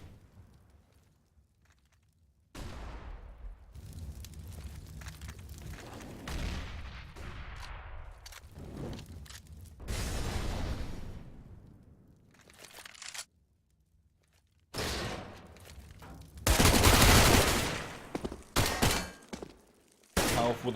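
Desert Eagle shots in a Counter-Strike match on de_cache, sharp bursts of gunfire scattered among other weapon fire and explosions, with a commentator talking over the action.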